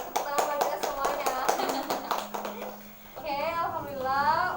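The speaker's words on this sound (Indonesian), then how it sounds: "tepuk tangan buat kita semuanya" A classroom group bursts into applause at the end of a group guidance session, a mix of brisk rapid claps beside children's voices and chatter.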